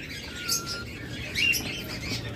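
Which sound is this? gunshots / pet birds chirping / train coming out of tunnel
pet birds chirping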